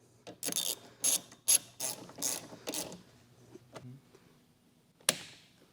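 A ratchet fitted with a Torx 50 bit tightening a seat belt bracket in a car, heard as several short, close bursts of ratcheting clicks in quick succession, a pause, then one final burst, with no talking.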